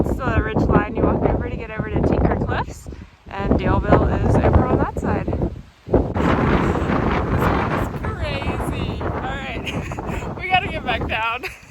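Strong cold wind buffets the microphone on an exposed Appalachian Trail ridge line, a loud continuous rumbling roar under a person talking throughout.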